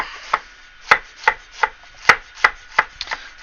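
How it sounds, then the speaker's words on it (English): A knife dices onions steadily on a cutting board, about ten crisp, evenly spaced knocks close up, with no talking. "Dicing up our onions."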